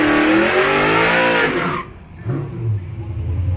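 A 1500hp twin-turbo Buick making a drag racing pass: loud, roaring engine wail climbing through its revs, then cutting off abruptly into a quieter lower rumble as the car lifts and coasts away.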